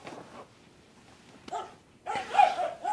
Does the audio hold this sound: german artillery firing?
no